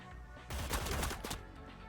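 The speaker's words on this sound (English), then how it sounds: "I think that was gunfire" A short burst of rapid video game gunshots in Cyber Knights Flashpoint, sharp and crackling, lasting about a second against a low background rumble.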